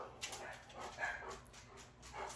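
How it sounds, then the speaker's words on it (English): A dog barks outside at an outdoor yard sale, heard as a few faint, distant yelps and whimpers over quiet background noise. "So somebody is probably walking their dog or something."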